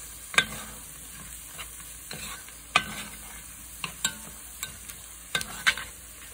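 Soft sizzling of a flour roux in a pan, for corn chowder, with intermittent scraping and stirring clicks from a utensil, quiet and close, no voices.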